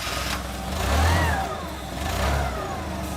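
A forklift engine turns over and comes to life, a close, loud mid-pitched rumble that swells twice as it revs, with steady mechanical noise underneath and no talking.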